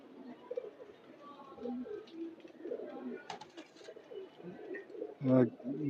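Pigeons coo at a loft where racing birds are kept, soft low calls running through the scene with a stronger burst near the end, while someone talks nearby over them.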